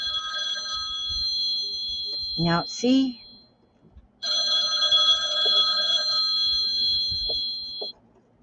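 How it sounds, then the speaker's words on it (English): A telephone bell rings in long electronic trills, two bursts separated by a gap, loud and close, while a person speaks briefly between them. "why does the phone always ring when I don't have time?"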